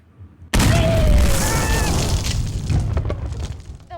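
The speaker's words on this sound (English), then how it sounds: "Bomb initiating in 3," A bomb blast in the FNAF World RPG bursts in suddenly and loudly after a brief quiet, a booming, crackling roar that rumbles on and slowly fades over several seconds.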